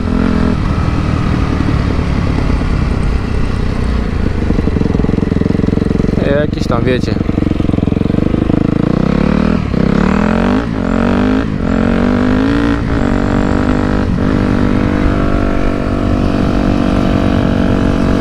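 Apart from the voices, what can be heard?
Yamaha YZF 250 motorcycle engine revving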